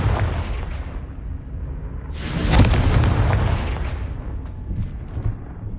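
In the Hogwarts Legacy video game, a Confringo blasting spell sets off a deep, booming explosion that swells over about a second and then rumbles away under a steady low background of game sound.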